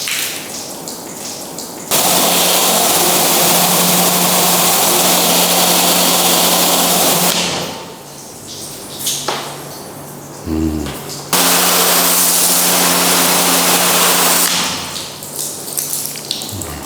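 Water sprayed in broad bursts across the waxed body of a car coated with graphene solid wax, with a steady close hiss that pauses and resumes, over a low hum from a pump or engine.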